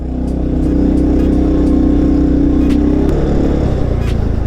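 A small, low-slung car built for a child revs its engine close by as it pulls away. The hum is steady and throbbing and climbs, then settles, and there is no speech.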